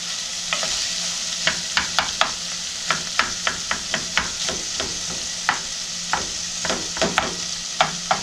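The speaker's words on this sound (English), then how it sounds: "Woo, can you hear it sizzling?" Onions and peppers sizzle steadily in a hot pan while a utensil scrapes and taps repeatedly, giving a loose rhythm of stirring clicks over the hiss.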